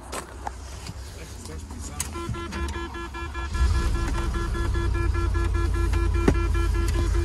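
A Range Rover P38 engine cranks and catches, settling into a steady, loud idle with a tonal whine and rumble that continues to the end; a voice is heard briefly.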